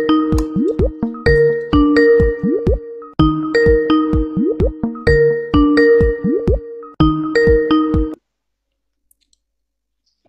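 Outgoing phone call ringback tone, a repeating electronic ringing pattern in bursts that loops several times loudly, then stops abruptly into silence.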